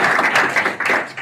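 Audience clapping for itself at a Bitcoin event hosted at the British Consulate in New York, a brief burst of moderately loud, dense clapping lasting about a second.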